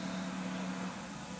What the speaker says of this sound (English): Did the fans come on already